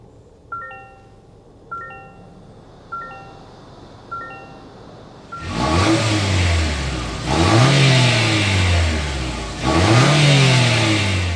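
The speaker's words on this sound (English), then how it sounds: "so you can hear that exhaust note" A 2024 Toyota Grand Highlander starts up after a few chimes, then its engine revs three times in rising, swelling bursts with a deep exhaust note, close and loud.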